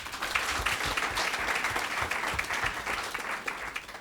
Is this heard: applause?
yes